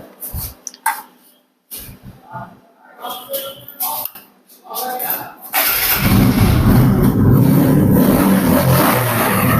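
Someone talks at first, then a blue TVS Apache RTR 160 motorcycle engine takes over, running close and loud with a steady, even rumble for the last few seconds.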